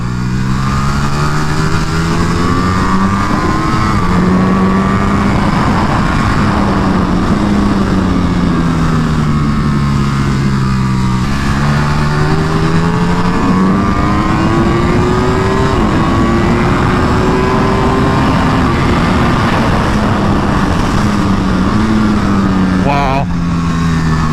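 A Ducati Panigale V4 R is ridden hard at a track day, its engine howling loud and continuously as revs rise and fall through gear changes, with heavy wind rush around it.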